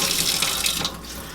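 Tap water runs steadily into a kitchen sink while a homemade cleaning-wipe container is rinsed out, a broad continuous splashing wash that eases slightly toward the end, with no talking.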